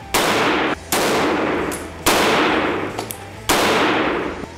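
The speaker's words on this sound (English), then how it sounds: "now for the 9mm. This is my everyday carry gun." A 9mm Hellcat compact pistol fires three sharp, loud shots about a second and a half apart, each bang trailing off into a brief ringing echo at an outdoor range.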